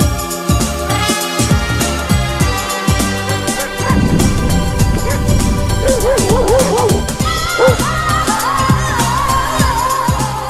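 Dogs bark and yip in short bursts along a roadside during a long bicycle ride, with some whimpering mixed into steady background noise.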